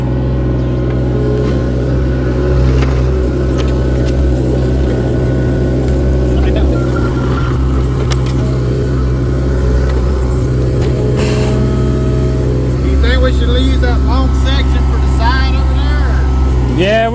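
A tractor digging a pipe trench about three feet deep, its engine rumbling steadily and loudly throughout with slight revving, as a person talks over it.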